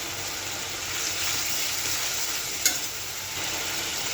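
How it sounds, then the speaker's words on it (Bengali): Greens stems fry with water in a pan, giving a steady close hiss of sizzling with a faint stir and a single sharp clink midway, with no talking. "এখন ডাঁটাটাই যে জল দিয়ে কষে নিব"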